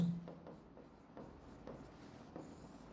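Pen writing by hand on paper, close and faint: short scratchy strokes in quick irregular bursts, with no talking.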